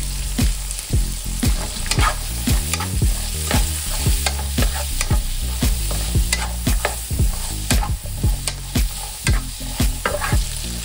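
Jerk seasoning being stirred in a hot frying pan with garlic for rasta pasta: loud, close sizzling under a steady run of sharp spoon scrapes and clicks against the pan, with no voices.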